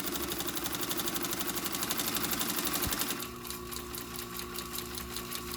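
An industrial sewing machine stitches along the edge of a leather bag, a rapid even rattling run that shifts to a slower, lighter pulsing rhythm partway through, close and clear.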